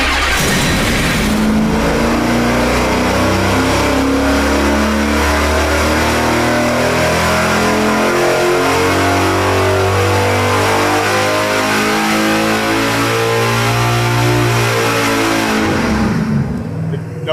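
A Hellcat-style 5.7 Hemi V8 on an engine dyno revs hard and continuously, its rising harmonic roar loud and close for most of the run before cutting off sharply at the end.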